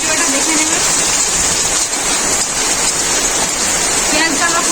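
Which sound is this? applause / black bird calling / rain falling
rain falling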